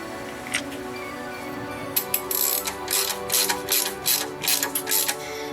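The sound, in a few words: tightening gearbox bolts with a ratchet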